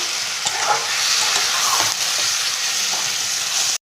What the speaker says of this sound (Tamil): எண்ணெயிலே கொஞ்சம் லைட்டாக பரட்டிக்கலாம்.